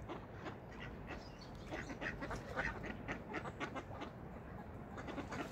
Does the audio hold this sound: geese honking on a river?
yes